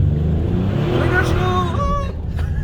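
A turbocharged Buick Grand National engine runs with a steady low rumble and a few faint whining tones over the top. It holds an even level throughout, with no clear revving.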